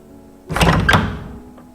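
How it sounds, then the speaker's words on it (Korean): A single heavy thunk as a door swings open onto an outdoor hot spring, a brief loud knock-and-rattle that rings and fades within about a second. "야외에 있는 온천에 들어가기 위해 문을 열었다"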